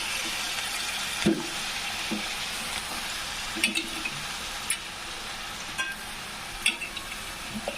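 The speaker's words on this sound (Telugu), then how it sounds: "వేపుకున్న తర్వాత ఇప్పుడు చేపలు వేస్తున్నాను ఇందులో" Fish pieces fry in a pan of ginger garlic paste for a fish curry, giving a steady, close sizzle with occasional soft clinks and scrapes of stirring throughout.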